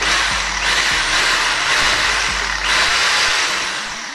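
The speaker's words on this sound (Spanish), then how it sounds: "si lo pongo en lo que es martillo taladro, tiene que girar y sonar el golpe." A DeWalt hammer drill with a newly replaced armature and pinion runs freely in hammer-drill mode, a loud, close whirring buzz with rapid rattling impacts that pulses slightly in intensity, alone without talk.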